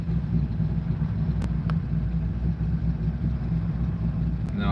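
Car with a manual transmission driving along, a steady close engine and road rumble filling the cabin with no gear changes standing out and a couple of faint clicks.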